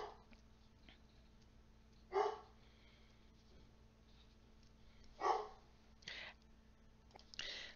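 A dog near a lecturer barks twice, sharp and brief, several seconds apart, with a faint extra bark at the end over quiet room hum.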